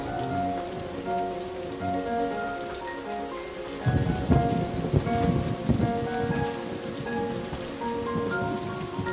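Steady rain pours down during a thunderstorm in Project Zomboid, with a dense wash of drops on surfaces throughout and a heavy rumble of thunder rolling in about halfway through, loud and close.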